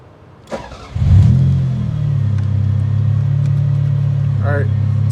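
A Toyota Celica V6 with a turbo setup starts up, a short crank bursting into a low, steady idle that settles and runs on close and loud, with a brief voice near the end.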